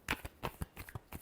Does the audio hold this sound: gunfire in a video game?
no